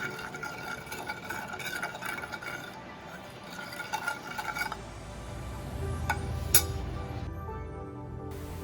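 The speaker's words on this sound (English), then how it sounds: "Squeeze half a lemon, mix well, and your marination is ready." Paneer tikka marination with squeezed lemon juice being stirred in a bowl, giving soft clinks and scraping with a faint liquid swish, close and quiet, no voices.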